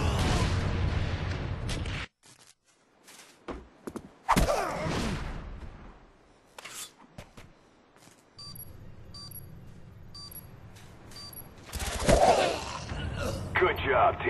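Video game artillery fires for effect: scattered heavy thumps and distant booms among gunfire, some loud and near, others faint, with quiet stretches between and voices talking over parts.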